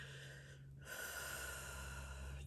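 A deep inhaled breath is drawn close to the microphone, a soft airy rush that swells after a brief pause and continues over a low, steady hum.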